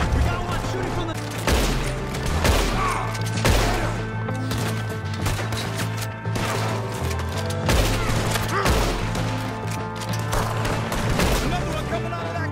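Gunfire in Red Dead Redemption 2 during a cabin shootout, sharp shots cracking at irregular intervals over a sustained musical score, mid-distance and fairly loud.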